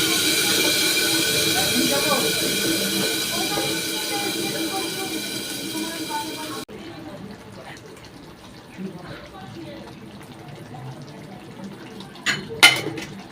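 Whole garam masala and spice paste dropped into hot oil in a pan, a strong hissing sizzle that fades after a few seconds into quieter frying with occasional clatter.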